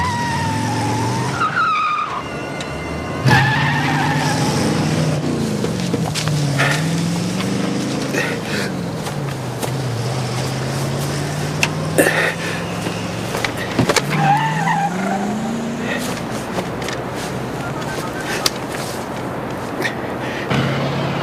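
A car engine revs hard and tyres screech and skid repeatedly as the vehicle pulls away, loud and close, with engine pitch sweeping up and down.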